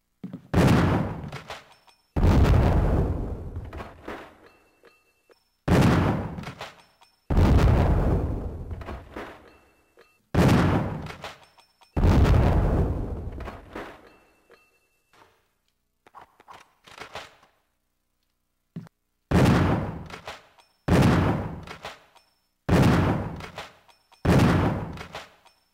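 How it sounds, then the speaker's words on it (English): A 12-gauge shotgun from the Resident Evil REmake video game fires repeatedly, each loud, booming blast trailing off before the next, in irregular clusters of single shots with brief pauses and quieter clicks between them. "Fires 12 gauge shells, a Star's custom arsenal, and also Richard's"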